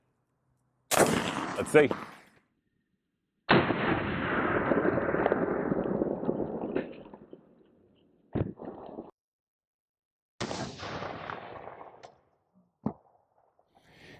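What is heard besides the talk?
rifle shots fired at Level III body armor plate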